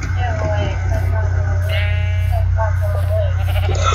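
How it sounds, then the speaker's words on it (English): Sheep bleat in the Minecraft video game, several short wavering cries over a constant loud low hum and steady background noise. "Kill the fucking sheep!"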